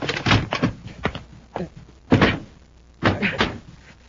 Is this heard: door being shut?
yes